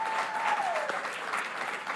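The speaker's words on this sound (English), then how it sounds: "I will never get tired of that real applause" Studio audience applauding on a late-night talk show, a steady dense wash of clapping that fills the whole stretch without any voices.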